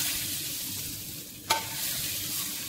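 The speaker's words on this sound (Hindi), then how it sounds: "इसमें मैं थोड़ा हल्दी डालना है और उसमें मिलाना है इस तेल को" Turmeric is stirred into hot oil in a pan while preparing raw turmeric pickle, a steady sizzle and frying hiss underneath with one sharp scrape or clink of the spoon midway.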